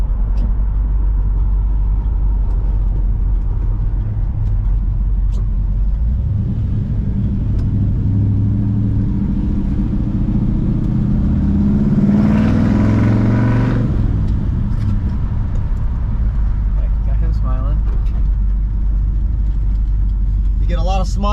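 A 1965 Chevrolet Malibu SS rumbles steadily at close range while driving, its engine note rising and swelling briefly mid-pass during a turnaround before settling back to a low drone.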